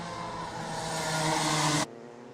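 Tillotson T4 class racing karts drive on track at a karting championship in Latvia, a steady buzzing engine drone building slightly before cutting off sharply near the end, with no voices.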